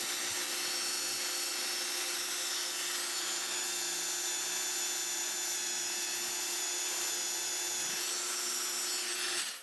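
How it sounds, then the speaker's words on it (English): Fine 400-grit sandpaper rubbing a small lock pin, a steady soft scratchy hiss running continuously at close range with no pauses or talk. "I'm going to do a little bit of touch up with some 400 grit sandpaper."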